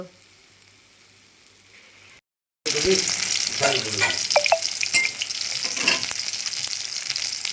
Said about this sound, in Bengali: দেখো বন্ধুরা মাছ ভাজা হচ্ছে